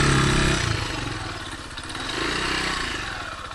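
A KTR 150 motorcycle's single engine runs at a forest campsite, a close, steady chugging idle that rises and eases slightly with mild clatter and no talk.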